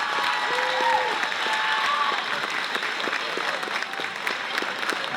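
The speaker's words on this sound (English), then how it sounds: "Have a nice round of applause." A crowd in a basketball gym gives a sustained round of applause, dense clapping with a few cheers and whistles, while an announcer talks over it.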